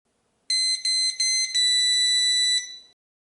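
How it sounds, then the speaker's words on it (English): A driveway alarm sounds as a car turns into a private driveway, giving a loud, close, pulsing electronic chime in quick bursts that runs for about two seconds, then stops. "This should sound the alarm."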